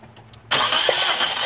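A 2005 Nissan Sentra with a 1.8 engine, after repair of a spark plug broken off in its aluminum head, cranks and fires up abruptly, then settles into a loud, steady running roar close by.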